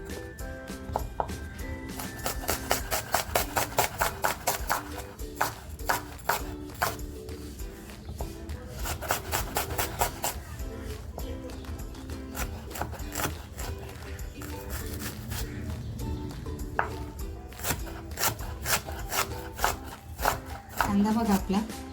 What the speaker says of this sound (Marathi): आता कांदा एकदम छान बारीक कापून घेते बघा